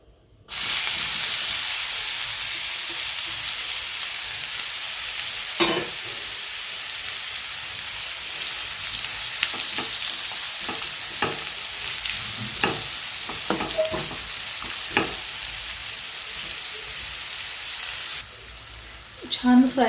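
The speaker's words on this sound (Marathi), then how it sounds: "छान फ्राय झालेलं आहे आपलं कारलं." Bitter gourd frying in a pan with mustard seeds and cumin, a steady loud sizzle with scattered scraping taps of stirring throughout, ending with a clatter.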